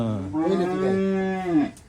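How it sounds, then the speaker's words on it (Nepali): A single long, loud moo from an Indian Punjabi breed cow, close by, rising and holding steady before trailing off, with no talking. "पन्जाबी गाई। पन्जाबी ए हेर न कस्तो छ।"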